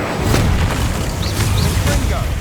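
Incendio fire spell cast in Hogwarts Legacy, a loud booming burst of flame with crackling magical effects over continuous game music and ambience.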